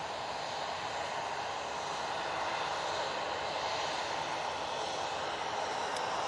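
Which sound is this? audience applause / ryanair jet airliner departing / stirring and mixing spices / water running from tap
ryanair jet airliner departing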